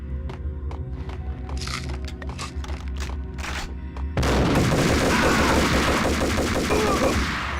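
Gunshots from Max Payne on PlayStation 2, starting as spaced sharp shots over a low humming backdrop, then breaking into a loud, dense, continuous volley that holds to the end.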